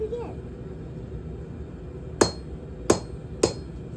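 A blacksmith's hammer strikes metal while forging a heart: three sharp, ringing blows land close by in quick, slightly uneven succession after a quiet stretch.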